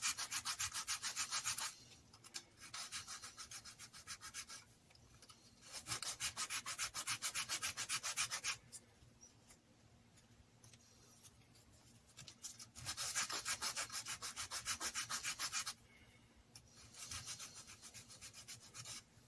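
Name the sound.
sanding small wooden model pieces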